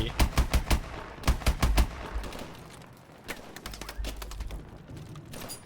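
Rapid bursts of automatic gunfire in the Call of Duty: Advanced Warfare video game, loud sharp volleys in quick clusters with a brief lull before more shots and thuds.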